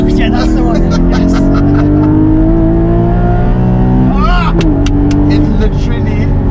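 The engine of a Porsche 718 Cayman GT4 revs toward high RPM, loud and close, its steadily rising howl dipping briefly as a gear shifts before climbing again.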